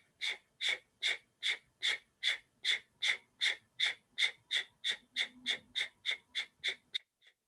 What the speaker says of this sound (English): the breath of fire typically is done through the nostrils, the mouth closed